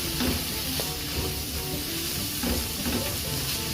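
Shrimp and chopped long beans sizzle in a hot pan during stir-frying, a steady close hiss broken by occasional scraping stirs.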